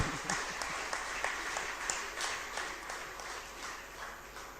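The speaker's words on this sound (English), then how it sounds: "Give him a big round of applause." An audience at a college reunion gathering claps steadily, a soft, moderately distant round of applause carrying on through with a faint voice underneath.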